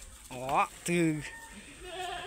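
Farm goats bleating nearby, two wavering calls in quick succession over a low outdoor background hum.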